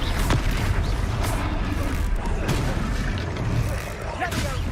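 A Confringo spell explodes during combat in the video game Hogwarts Legacy, giving a booming burst amid continuous rumbling battle noise, with voices heard.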